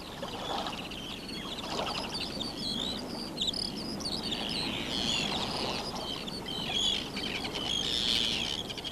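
Seabirds call over the Shetland coast on a summer day, a busy layered chorus of chirps and shrill cries at middle distance above a steady windy wash.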